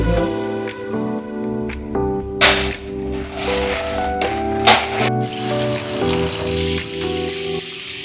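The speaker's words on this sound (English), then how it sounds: "The second step is cleaning your beans and cleaning them thoroughly, just to make sure that you rinse off any dirt" Beans being rinsed clean under running water, with splashing and swishing in a bowl or sink and a few louder gushes, close and steady with no talking.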